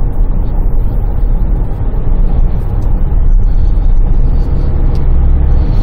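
A SsangYong Rexton Khan pulling ahead on the road, heard from inside the cabin as a steady, loud low engine drone with road rumble and no talking.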